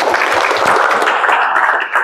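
Audience members at an Indonesian talk clap in response to the speaker, a loud, continuous wash of applause with some individual claps standing out, no speech over it.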